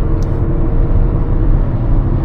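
A Honda Elevate SUV cruises along a road at speed, giving a steady, loud rumble of engine, tyre and wind noise that continues unbroken throughout.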